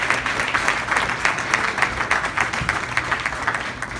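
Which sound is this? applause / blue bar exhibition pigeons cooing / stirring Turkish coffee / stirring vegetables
applause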